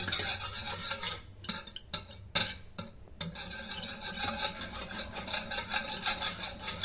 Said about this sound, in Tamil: ரெண்டு முட்டையும் நல்லா விஸ்க் வச்சு அடிச்சுக்கணும்.